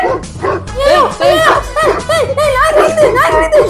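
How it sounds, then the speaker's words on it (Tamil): A dog barks and yips repeatedly in quick bursts, close by, mixed with excited voices and some laughter. "ஐயோ நாய் கடிக்குது."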